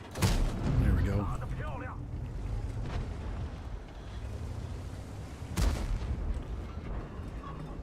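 A tank gun firing in World of Tanks, from a Chinese WZ-120-1G FT tier 8 tank destroyer: two heavy booming shots, one near the start and one about five seconds later, over rumbling game ambience with someone talking.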